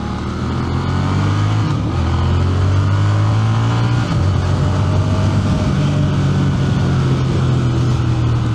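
A 2025 Triumph Speed Twin 1200 RS motorcycle ridden on the COTA circuit, with a loud steady engine drone and shifting rev pitch under heavy wind rush, heard from the rider's position.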